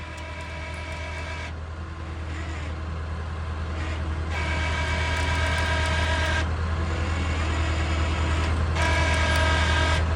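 An off-road vehicle engine idles steadily during a trail recovery at Kelly Flats, a loud continuous low rumble with a constant hum and no revving.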